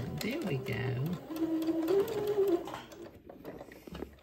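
A sewing machine stitches a bishop-style Christmas dress past its pleater threads in a short, steady run of whirring, close and moderately loud, with a voice speaking before and after the stitching.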